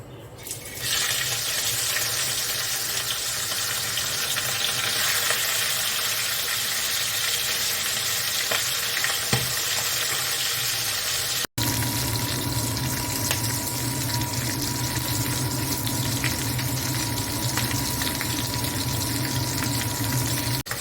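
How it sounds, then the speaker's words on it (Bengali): A fish head fries in hot oil, giving a loud, continuous hissing sizzle that runs for about twenty seconds with one abrupt break near the middle and no talking. "তেল ভালোভাবে গরম হয়ে গেছে, এবার মাছের মুড়োটা ভেজে নিচ্ছি"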